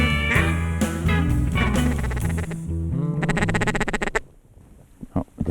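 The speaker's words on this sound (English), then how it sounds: "Lots of drakes in that bunch." Ducks quacking, drakes among them, during a late-season waterfowl hunt in Alberta, a loud rapid run of nasal calls up close, then a brief pause and a few scattered quacks.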